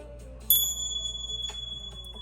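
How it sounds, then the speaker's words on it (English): Three small chimes ring out to cleanse energy before a spiritual reading. The bright, ringing strikes come about a second apart, each leaving a sustained shimmer, with the first the loudest and the last fainter. "going to cleanse your energy here in this space by 3 small chime sounds"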